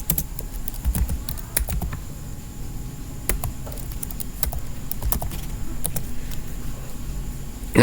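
A computer keyboard is typed on to enter a command, giving a steady run of light, close key clicks over a faint background hum with no talking.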